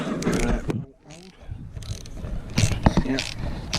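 Fittings being undone on a Yamaha YZF-R 125 rear indicator, with clicky ratcheting and rattling mechanical sounds in bursts, close to the microphone, and a short quiet pause.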